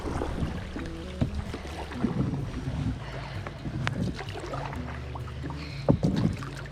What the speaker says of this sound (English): start paddling forward